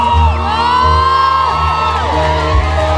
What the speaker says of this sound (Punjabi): ਮੈਨੂੰ ਸਿਰਫ ਤੁਹਾਡੀਆਂ ਤਾੜੀਆਂ ਤੇ ਤੁਹਾਡੀ ਆਵਾਜ਼ ਸੁਣਨੀ ਚਾਹੀਦੀ ਹੈ